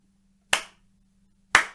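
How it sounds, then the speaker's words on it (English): Two sharp, crisp hand claps about a second apart, loud and close against a quiet background, clapped as a one-bar clave rhythm in a rhumba blues lesson for U-bass. "The one-bar clave rhythm sounds like this."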